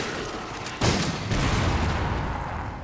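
Gunfire in the video game Resident Evil 5: a sudden loud burst of shots erupts about a second in, then sustained rumbling blasts continue close and dense to the end.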